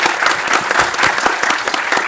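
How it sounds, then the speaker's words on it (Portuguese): Staff and attendees at a bootcamp event at the Hospital de Amor foundation give a round of applause, loud, even clapping that runs continuously from start to finish. "então salva de palmas aí pro"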